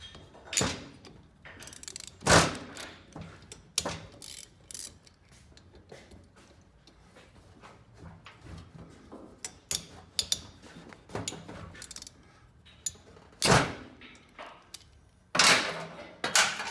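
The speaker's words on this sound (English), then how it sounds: "This is a plain old 10mm wrench." A 10mm wrench works oil-covered bolts on the cylinder head of a BMW R 1200 GS motorcycle, giving scattered close metallic clicks, clanks and ratcheting taps with quiet gaps between them.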